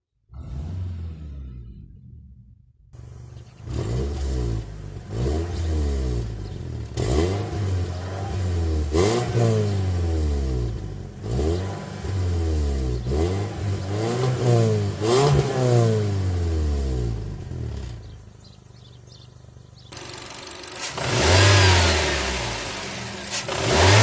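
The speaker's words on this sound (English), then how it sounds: "let's go ahead, hop inside, do a few revs, and see how it sounds" A 2017 Dacia Duster engine revs repeatedly, rising and falling in rhythmic bursts after a start, loud and close, ending with a burst of broadband noise.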